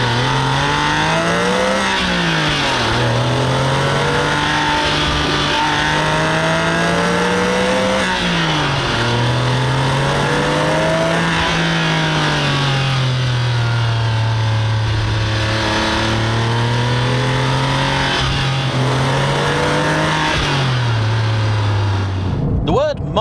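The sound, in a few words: Porsche 996.2 911 GT3 engine accelerating on a drive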